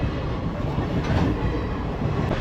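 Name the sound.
train passing by a gate near Ananthagiri hills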